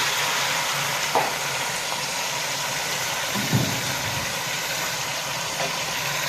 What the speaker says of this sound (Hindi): अब ये चिकन भी फ्राई हो रही है